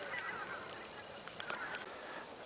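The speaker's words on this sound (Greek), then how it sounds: "Αλλά ακόμα πετάνε φυσικά χήνες." Geese honk in flight over a Bulgarian lake during a hunt, several faint, distant calls scattered over a steady background hiss.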